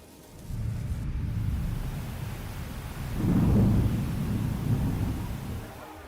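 Heavy rain with rolling thunder: a steady broadband wash of rain builds into a deeper, louder rumble partway through, then settles back, with no voices.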